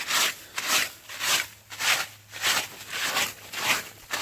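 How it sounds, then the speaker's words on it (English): Beach grass brush sweeping sand off an outdoor mat on a beach, with about eight rhythmic, scratchy, bristly strokes at close range and no talking. "you can brush it all into the corner"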